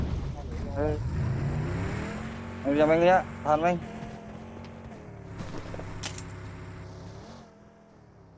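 A broken-down car drives in PUBG Mobile, its engine droning steadily and rising briefly in pitch over continuous player chatter, then fading toward the end.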